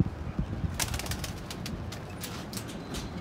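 A pigeon coos close by in a series of soft, low calls. A few sharp rustles or wing flutters sound through the middle of the clip, with no talking.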